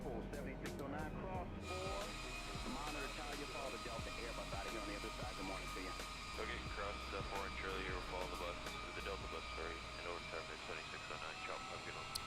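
Boeing airliner jet engines whine and roar steadily while taxiing in a flight simulator game, a constant loud drone under someone talking.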